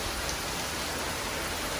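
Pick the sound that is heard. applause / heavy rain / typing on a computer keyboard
heavy rain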